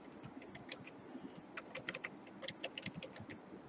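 Typing on a computer keyboard while entering data into a Microsoft Excel timesheet: a quiet run of close, irregular key clicks, faint at first and thickening into quick bursts toward the end.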